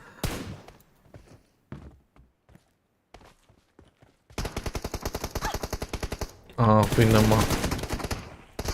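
Video game shooter gunfire arrives in fast automatic bursts after a few scattered footstep-like taps, loud and dense toward the end, with a voice speaking briefly.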